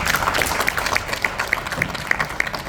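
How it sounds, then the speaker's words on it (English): Audience applause from a panel crowd, a steady wash of many hands clapping close by with sharp individual claps standing out, continuous and fairly loud without talk. "All right, round of applause."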